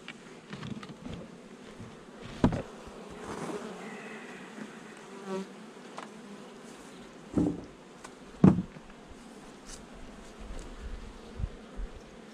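Honey bees buzz steadily at a blue beehive during the acacia honey flow, with a constant close hum and a few louder bees passing near.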